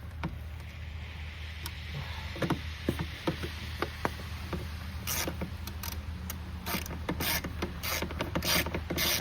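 A T25 screw being turned into the air filter housing of a 2017 Audi A4, with soft irregular ratcheting clicks and light mechanical ticks over a low background hum, growing busier toward the end.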